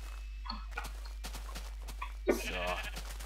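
A few short sheep bleats ring out amid Minecraft game sounds while a person talks over them in German.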